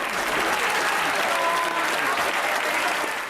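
Applause in the House of Commons, a steady dense burst of clapping from a crowd of members, loud and continuous for the full few seconds with a faint murmur of voices beneath.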